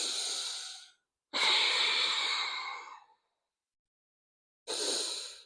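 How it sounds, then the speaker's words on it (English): Slow, deep breaths during a morning yoga flow, close and clear: a long exhale, a fuller sighing breath lasting nearly two seconds, then silence before another breath begins. "One more full breath here."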